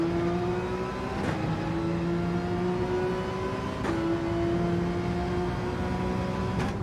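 A Porsche race car engine in Gran Turismo 7 drones steadily at high revs, rising in pitch, with three sharp gear-shift breaks dropping the tone before it climbs again.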